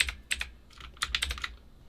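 Key presses on a Redragon VATA mechanical keyboard come in short, quiet clicky bursts with small gaps between them, heard close up and with no talking.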